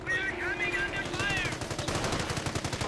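An MG fires in the Company of Heroes game as a rapid, steady rattle of machine-gun bursts mixed with battle noise, while a tonal warbling sound fades out early on.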